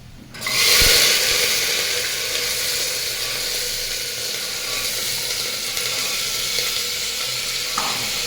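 Chana dal tipped into hot oil with fried ginger and cumin erupts in a sudden loud sizzle, then settles into a steady crackling fry for several seconds, without talk.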